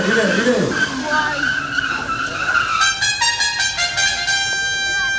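A Jaguar car engine roars as it pulls away hard, with a brief tire squeal and rising gear whine heard close by.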